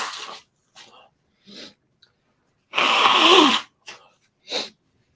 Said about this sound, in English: I'm about to sneeze so badly